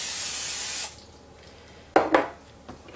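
A short burst of cooking spray hisses onto a ramekin, loud and close for under a second, followed by quiet and two brief knocks as the dish is handled.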